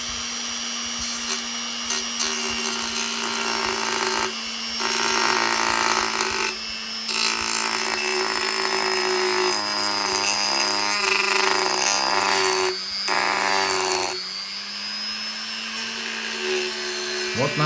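Homemade grinding bit spun by a small rotary tool on its first speed, biting into a wooden end face; a steady close whine carries through, with rougher grinding bursts as the bit cuts.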